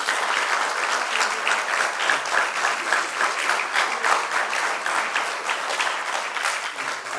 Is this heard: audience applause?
yes